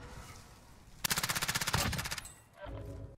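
Rapid automatic gunfire bursts in a video game, about a dozen fast evenly spaced shots in one loud burst, with players talking faintly around it.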